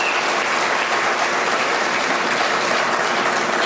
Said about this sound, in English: Please give a great round of applause to President Clinton.